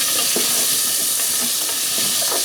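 Tomatoes and potatoes cooking in a pan give a steady loud sizzle and hiss, with occasional soft stirring scrapes over the continuous frying.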